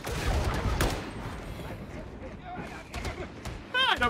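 An autogun in Warhammer 40k Darktide fires in short bursts amid battle noise, with sharp shots near the start and end and voices talking between them.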